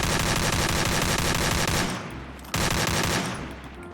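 Automatic gunfire sprays in the Free Fire battle royale game, two loud rapid bursts of shots, each tailing off before the next begins, with no voices.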